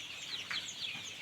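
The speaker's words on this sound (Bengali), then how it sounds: "এইখানে অরিজিনাল টাইগার মুরগি আপনারা সুন্দরভাবে দেখেন" Tiger breed chickens clucking softly on a two-storey poultry farm, a few brief, faint calls over a quiet background in a very short moment.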